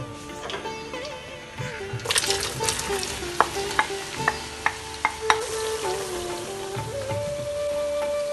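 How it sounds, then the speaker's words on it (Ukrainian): Carrots and onions fry in oil in a cauldron while being stirred for an Indian pilau, giving a steady close sizzle punctuated by sharp clicks and scrapes of the stirring utensil. "відправляємо нашу моркву і цибулю. Завжди її помішуємо і чекаємо, поки вона придбає золотистий колір."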